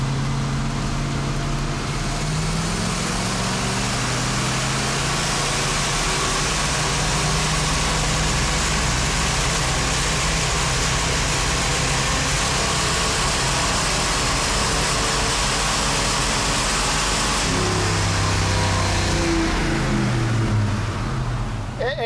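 A Ford 347 V8 built for a sleeper Granada runs hard on an engine dyno, a loud, sustained broadband roar held at wide-open throttle for about twenty seconds, rough and starting to misfire, with lower tones shifting near the end.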